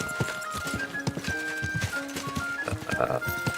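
Horse hooves clip-clopping in Kingdom Come: Deliverance 2, a steady walking rhythm of close hoofbeats with soft ambient game sounds.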